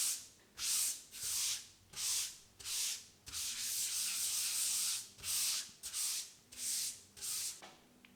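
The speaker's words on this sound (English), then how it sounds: "I simply use the pumice stone" A pumice stone rubs over wood grain in regular back-and-forth strokes, a soft, close, hissing scrape. Roughly one pass every second, with a longer continuous stroke midway, alone and without talk.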